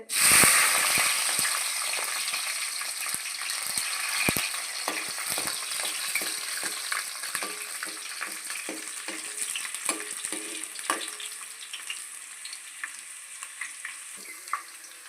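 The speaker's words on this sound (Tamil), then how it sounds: "வெந்தயம் போட்டுக்கலாம் வாங்க பூண்டு போட்டுக்கலாம் கடுகு பொரிஞ்சிருச்சு" Mustard seeds, fenugreek and garlic sizzling in hot oil, a loud continuous crackling hiss with dense popping and spattering that eases slightly over time, close up and alone without talk.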